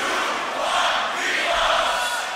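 Dense crowd roar at a beatbox loopstation battle, a broad sustained wall of voices shouting together, swelling slightly mid-way, loud and continuous throughout.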